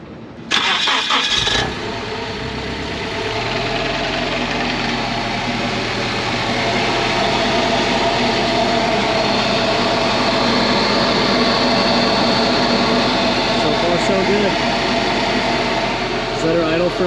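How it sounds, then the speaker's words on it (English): A supercharged Toyota FRS engine cranks and fires, then settles into a steady loud idle heard up close with a constant drone and faint talk underneath. "we're gonna test fire it up, see if she's leaking."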